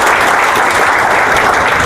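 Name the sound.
audience applause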